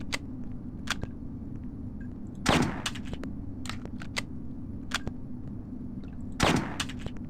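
Bolt-action rifle fire in the Hitman video game: a few sharp, fairly quiet cracks spaced well apart, with short clicks and clatter between them over a low steady background hum.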